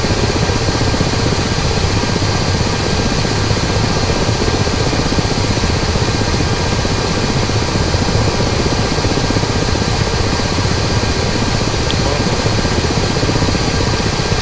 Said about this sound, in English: Sorry that the sound of the engines is so loud